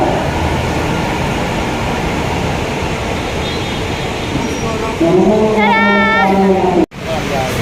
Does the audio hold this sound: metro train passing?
yes